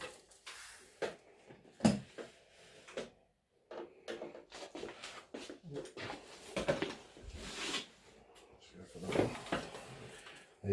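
Raijintek Metis Plus PC case being opened, with a series of close clicks, knocks and sliding panel rattles at an irregular pace, some sharp and some soft.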